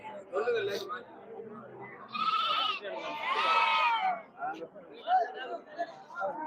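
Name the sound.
goats bleating at a goat market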